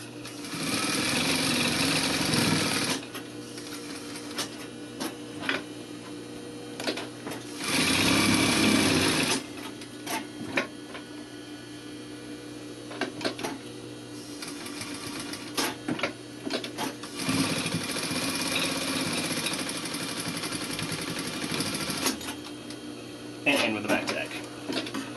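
Sewing machine stitching a welt pocket, beginning with a back tack, running in several loud, close bursts separated by quieter stretches where a person talks.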